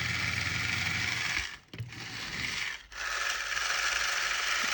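Lima 00 gauge 0-4-0 diesel shunter model running on a rolling road, a continuous whirring, buzzing gear-and-motor drone close by that briefly drops away twice before resuming.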